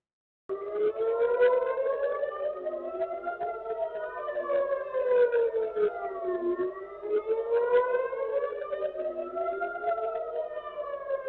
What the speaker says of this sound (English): We have sirens going off in Tel Aviv